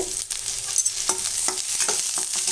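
Green chili, crushed ginger and garlic sauté in hot oil in a pan, giving a steady close sizzle with a few scattered crackles and light stirring taps throughout.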